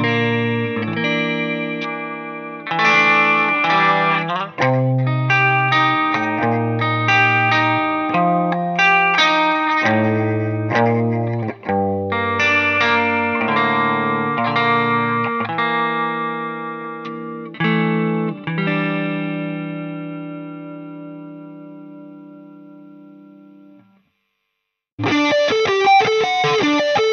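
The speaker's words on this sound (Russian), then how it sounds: "По мне так гитара звучит очень жирно" Gibson Reverse Flying V electric guitar played through effects, loud, thick distorted chords and riffs with chorus and reverb, ringing out to a held note that fades before a final short burst of playing.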